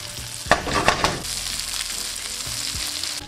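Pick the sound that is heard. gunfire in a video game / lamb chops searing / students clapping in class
lamb chops searing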